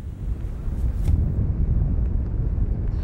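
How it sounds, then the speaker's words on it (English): Powerful wind gusts buffet the microphone at an ocean front on a stormy morning, a loud, close, continuous low roar with a stronger gust about a second in, no speech. "we got some really powerful wind gusts out here this morning at the ocean front"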